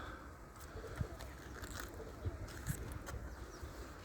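Soft, low pigeon coos sound a few times at a distance over a faint outdoor hum.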